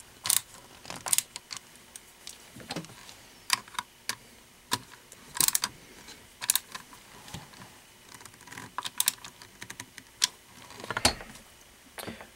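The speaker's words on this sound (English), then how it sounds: "You want to start and alternately tighten each of these two lower screws in the cross bolt." Screws being alternately tightened on the cross bolt of an SKS scout scope mount produce irregular close metallic clicks and small scraping turns, coming in uneven bursts with quiet gaps between.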